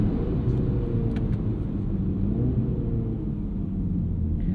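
Steady, loud low rumble of a 2021 Mini Countryman John Cooper Works engine and road noise from inside the cabin, holding even throughout with no clear surge of acceleration.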